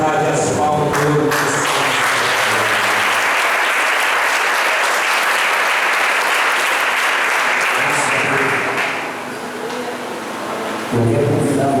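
A church congregation claps loudly and continuously during a service. A voice speaks at the very start and again near the end, with the dense applause filling the long middle stretch.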